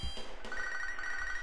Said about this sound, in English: Damn, my phone was going off.